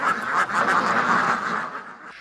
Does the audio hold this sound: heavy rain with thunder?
no